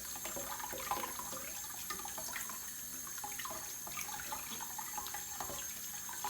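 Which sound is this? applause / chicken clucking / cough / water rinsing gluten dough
water rinsing gluten dough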